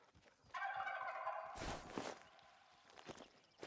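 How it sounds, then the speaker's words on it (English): Wild turkeys in the hunting game Hunter Call of the Wild let out a loud, close gobble lasting over a second, with footstep-like thuds and rustling around it. "Got some really loud turkeys"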